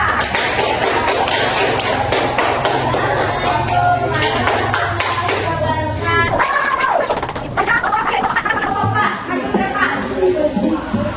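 An audience clapping for a student group, quick close rhythmic claps in the first half that fade into voices and chatter.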